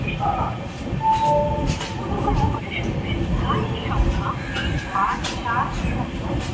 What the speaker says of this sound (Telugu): ఇది వెస్ట్ బెంగాల్లోని ఖరగ్పూర్ రైల్వే స్టేషన్.